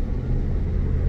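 A motorbike carrying three riders without helmets goes by, a low, rumbling engine drone holding steady and fairly close through the brief moment.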